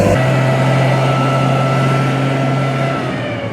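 Armored military vehicle of British army origin driven through suburban Nashville, its heavy engine droning loud and steady with a constant low hum, close and alone.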